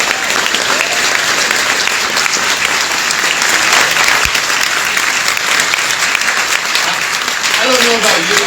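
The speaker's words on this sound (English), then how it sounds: "So let's give Michael Gates a big round of applause." A full, sustained round of audience applause fills a Huntington Beach housing town hall, loud and even from start to finish, with crowd voices blended into the clapping.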